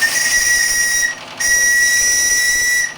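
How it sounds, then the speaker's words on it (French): A shrill, steady steam whistle on a model steamboat blows, cuts out briefly, then sounds again in a second long blast over a hissing background, the boiler at barely 2 bar. "J'ai un beau sifflet."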